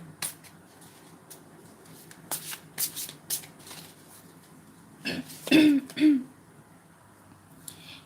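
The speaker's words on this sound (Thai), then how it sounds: "เดี๋ยวอันนี้จะขอเปิดไพ่สามใบนะคะ" Tarot cards being shuffled by hand, a series of crisp riffles and slaps at irregular intervals, loudest in a burst near the end, with a cough or throat clearing in between.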